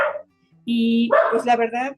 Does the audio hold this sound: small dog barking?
yes